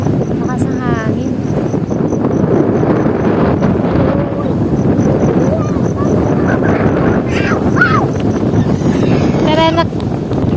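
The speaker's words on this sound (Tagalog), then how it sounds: "Lakas ng hangin." Strong wind blowing steadily across a microphone outdoors in Ilocos Norte near Pagudpud, a loud continuous rushing roar with a few faint higher chirps and brief bursts of talk over it.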